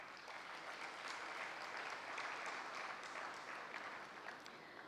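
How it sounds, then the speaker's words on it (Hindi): An audience at a Gyan Sarovar youth wing parent session breaks into applause, a dense even patter of many hands clapping at a moderate distance, faint and steady without speech. "ताली तो बजाओ।"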